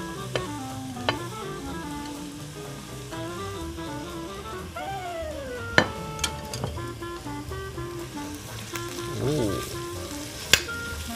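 Scallions, onion and garlic whites stir-frying in oil in a wok for traditional fried rice noodles, a steady moderate sizzle with occasional sharp spatula clinks and scrapes, no talk.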